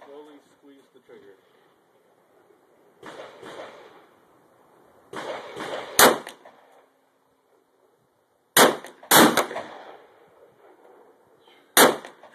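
A shotgun firing slugs outdoors, several sharp, loud blasts spaced seconds apart with trailing echo, between quieter stretches where people talk.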